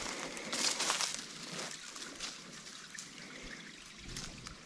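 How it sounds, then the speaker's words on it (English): Water trickles and splashes at the foot of a woodland waterfall, a steady close wash of falling water with a brief louder gurgle near the start and another near the end. "So we have come to the bottom now of the waterfall."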